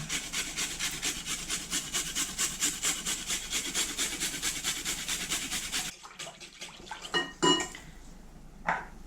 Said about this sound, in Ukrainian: натираю один зубчик чесника